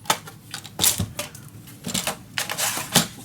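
Paper for a scrapbook single folio is cut in a few quick strokes, producing sharp, crisp slicing and crunching bursts spaced about half a second apart, close and fairly loud with no talking over it.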